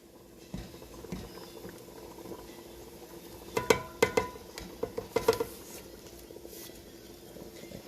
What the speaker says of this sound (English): I'm going to let this simmer for another 15 minutes